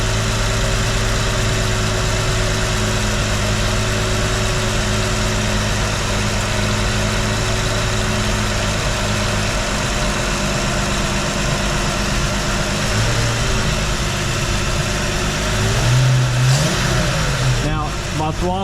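A hot rod car engine running two Rochester 2G carburetors idles steadily and close for a long stretch, then revs briefly in a few quick throttle blips near the end.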